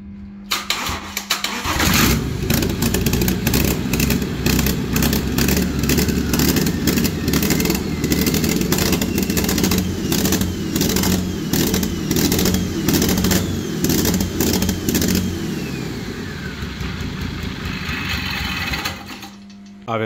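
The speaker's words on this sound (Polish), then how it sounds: "Motor starten." A BMW 525d F11 estate with the N57 diesel engine cranks briefly, catches and then idles with a steady rough clatter close by, running evenly for many seconds before shutting off near the end.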